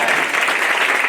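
A church congregation at a Healing Tower Church service bursts into dense, steady applause, close and sustained throughout with no pause.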